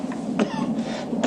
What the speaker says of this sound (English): Coughing up blood, aren't you?